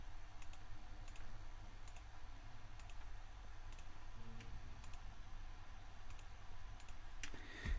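Faint computer mouse clicks in small groups of two or three, spaced unevenly over a low steady hum.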